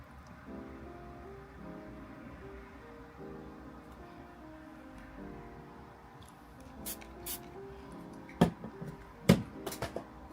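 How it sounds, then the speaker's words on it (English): A low steady hum runs throughout, then a few sharp clattering knocks near the end as a dropped spray bottle hits the floor and bounces during a live painting session. "Of course I dropped my spray bottle."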